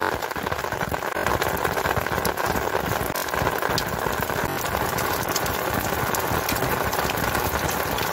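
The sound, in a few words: rain falling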